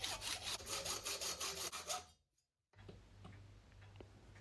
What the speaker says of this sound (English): The stainless steel bolts are quite hard going with a hacksaw,